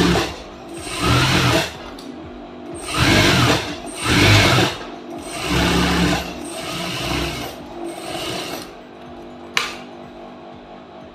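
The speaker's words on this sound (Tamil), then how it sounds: "இந்த எட்ஜிலேயே நம்ம தையல் வந்து போடலாம்." A sewing machine stitches along the lining edge of a blouse in several short, loud bursts separated by pauses, close up with no talking.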